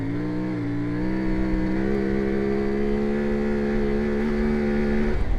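A CFMOTO Ibex 450 twin-cylinder motorcycle accelerates in second gear through deep riverbed sand, its engine note holding a strong drone and slowly climbing in pitch, loud and close, then easing off near the end.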